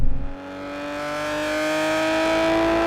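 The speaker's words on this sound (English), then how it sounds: "the thing I like the most is just the noise from this exhaust" Nissan GT-R R32 exhaust while driving, a steady rising engine drone that builds smoothly and holds loud and close, with no talk over it.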